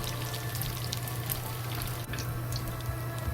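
Tofu pieces frying in oil until both sides turn golden brown and crispy, a steady dense sizzle with fine crackling pops holding at an even level throughout.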